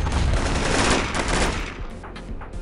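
Rapid automatic gunfire bursts loudly in a Warfare Reloaded video game battle, a dense fusillade of shots that tails off into scattered separate reports. No one talks over it.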